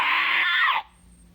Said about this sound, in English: She grasped his hand and held it up with the ring and let out another scream.